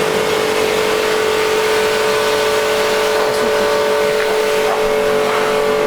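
A boosted Mazda MX-5 engine drones steadily and loudly throughout, a sustained revving tone with no breaks.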